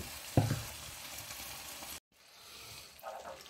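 Tofu and shrimp sautéing in a pan, a continuous moderate sizzle and frying hiss with a brief stir or clatter near the start, a short cut to quiet, then the frying resumes more faintly.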